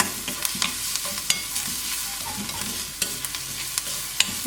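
Onions fry in a pan for a Kerala-style chicken keema filling, with a steady close sizzle and the repeated scrape and clack of stirring throughout.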